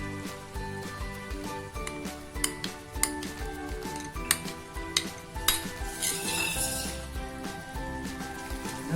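Spice masala stirred into rajma cooked in ghee in a metal pot, repeated clanking and scraping of a spoon against the pan over a soft sizzle, no talking.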